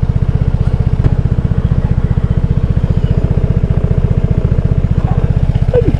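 A Vespa S125 scooter engine labors up a steep hill, a loud, close, rapid even putter with firm low pulses that holds steady throughout, and a faint brief squeak near the end.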